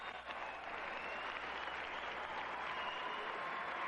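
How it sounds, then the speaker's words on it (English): A hometown crowd at a bodybuilding show applauds bodybuilder Mike Francois, a dense, steady wash of clapping that holds evenly throughout at moderate distance. "The applause continues for Mike Francois"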